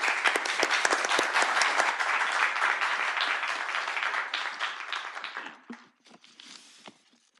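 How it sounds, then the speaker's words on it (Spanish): An audience at an academic talk on road landslide risk breaks into applause, a sustained, even clapping from many hands that tapers off toward the end. "les queremos dar un aplauso."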